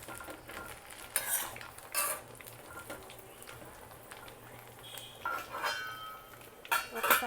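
A spoon stirring a gooseberry pickle mixture in a pan over low heat: intermittent scraping and clinking of metal against the pan in irregular bursts over a quiet background, with a faint simmer.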